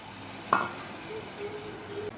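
Yogurt goes into a sizzling Kashmiri dum aloo gravy in a pan, with a sharp splash-and-hiss as it lands, then a quieter simmering sizzle and soft stirring.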